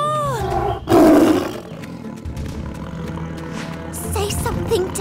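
A cartoon tiger gives a loud, close, rumbling roar that swells and then fades into background music and effects, with voices briefly speaking.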